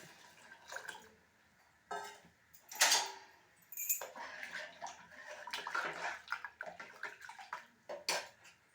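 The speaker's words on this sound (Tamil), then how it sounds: "தண்ணியும் சேர்த்துறது" Water splashes and pours into a metal pot of drumstick-leaf sambar with chilli powder, amid clinking of utensils, in intermittent bursts at moderate distance.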